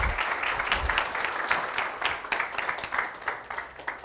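Audience applause after a business talk on work-style reform, a steady wash of many hands clapping for about four seconds, fairly even with small swells, no voices over it.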